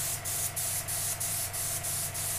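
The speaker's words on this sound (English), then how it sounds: "We spray this on with an airbrush." An airbrush sprays PVA mold release onto a cast of a small bass for a fish replica, giving a steady, close hiss with a faint rhythmic pulsing and a low hum underneath, and no talking.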